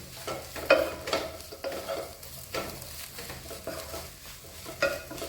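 Egg and chicken kothu parotta with curry leaves is stirred in a pan, with repeated scraping strokes and soft clinks over a faint sizzle, close up and with no talk.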